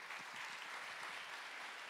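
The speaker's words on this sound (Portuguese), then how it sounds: "uma salva de palmas para os nossos astros." An audience at a late-night hypnosis show claps and cheers for the performers, a dense, steady round of applause that sounds fairly distant and soft throughout, with no speech over it.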